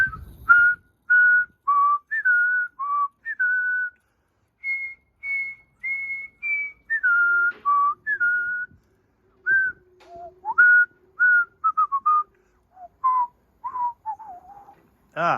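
A person whistles a wandering tune in short melodic phrases with brief pauses in a garage during work on a 1957 Chevy wagon frame, close and clear, with faint low rumbling underneath.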